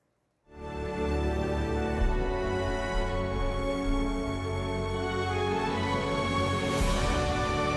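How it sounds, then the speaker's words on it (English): AI-generated music with vocals from Lyria 2: a rich, sustained full-band mix with layered harmonic tones that begins after a brief silence and holds steady at moderate volume throughout. "As you hear, it makes expressive and rich music."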